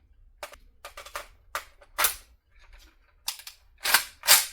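A Hungarian Alpha AK rifle firing a series of sharp, separate shots in an irregular rhythm, some in quick pairs and the last few louder, with quiet gaps between them.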